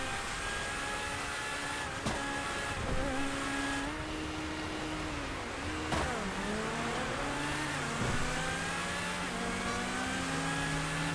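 Several race car engines rev and shift steadily through a GTA FiveM racing game, rising and falling in pitch as they accelerate, loud and continuous with no talk.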